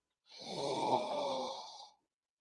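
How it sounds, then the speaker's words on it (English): A single deep inhalation drawn in through hands cupped over the nose and mouth, a breathy rush of air lasting under two seconds, close and fairly soft, with no talking. "I want you to take a deep breath in"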